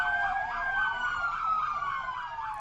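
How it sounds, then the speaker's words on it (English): Emergency vehicle sirens wail outside, holding a steady high tone over a wavering yelp. Loud and continuous, with no talking. "Jesus Christ with the sirens."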